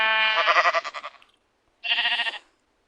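A Minecraft sheep gives two bleats, a longer wavering one followed by a shorter one after a brief pause, close and clear with no background.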